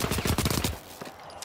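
Rapid burst of turret gunfire in an online shooter game, about a dozen close, loud shots in quick succession that stop abruptly and leave quieter background sound.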